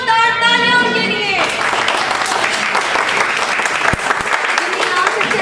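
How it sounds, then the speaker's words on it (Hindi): Audience at a party breaking into loud, sustained clapping that follows someone speaking and continues steadily to the end. "तो प्लीज जोरदार तालियां उनके लिए।"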